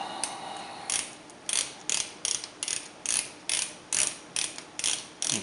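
A 3/8 ratchet works the rear differential fill plug on a Ford F250 Powerstroke, giving about a dozen crisp, evenly spaced clicking bursts close by with no talking.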